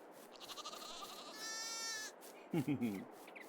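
Sheep on a farm bleat faintly and at a distance, with several wavering calls over a low outdoor background, then a louder, closer bleat near the end.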